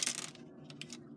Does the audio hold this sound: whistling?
no